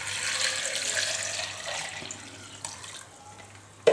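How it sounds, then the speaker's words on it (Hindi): A litre of water pours steadily into a vessel for a cooling sharbat, a bright continuous splashing that fades slightly toward the end before a small clunk. "अब हम इसमें क्या करेंगे कि 1 लीटर पानी डाल देंगे"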